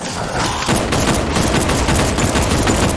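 A gun fires in Batman: Arkham Knight, loud, close and rapid, with dense rattling shots packed together over about three seconds.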